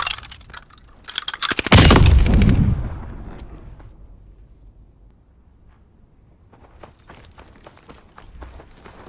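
Game gunfire from Call of Duty: Vanguard on the Champion Hill map, a loud close burst of rapid automatic shots that tails off into quieter ambience, with faint scattered shots returning near the end.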